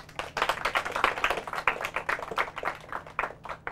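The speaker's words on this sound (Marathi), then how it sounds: "त्यांच्यासाठी जोरदार टाळ्या" An audience applauds a school quiz team with steady, dense clapping from many hands, lively and sustained throughout without voices.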